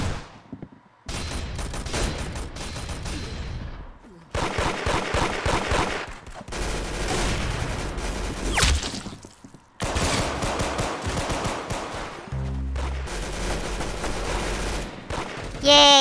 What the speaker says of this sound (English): Yay, a machine gun!